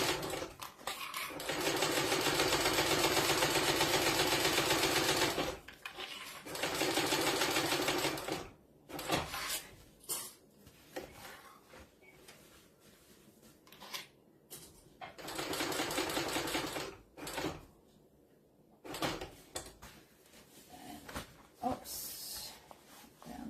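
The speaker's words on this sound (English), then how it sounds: "Now I'm coming back up to my lining side, so I go over the seam and then increase it back to my 3/8." A sewing machine stitches the seam of a fabric book sleeve, running in long steady loud bursts with short pauses and quieter stop-start runs between.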